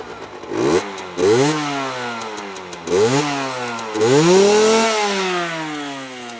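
A motorcycle engine with a Euro 4 carburettor and solenoid valve fault revs repeatedly, rising and falling in sharp pitch sweeps, loud and close, with one longer rev near the end.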